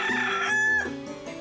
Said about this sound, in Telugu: పుంజులు ఇప్పుడే కూతకొచ్చినాయి